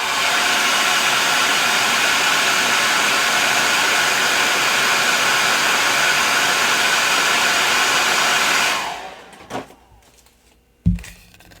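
A handheld hair dryer blows steadily on a Christmas ornament shaped like a flamingo or oyster, a loud continuous broadband whoosh lasting about eight seconds before it shuts off, followed by a couple of faint handling knocks.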